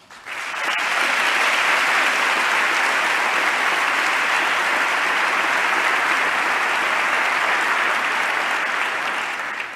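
An audience in Congress at a State of the Union address breaks into loud, sustained applause that rises quickly and holds steady for several seconds.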